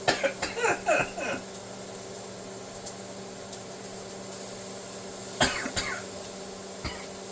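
A man coughs in a kitchen while cooking steak and potatoes. A burst of several hacking coughs comes first, then a few more isolated coughs follow over a steady background hum.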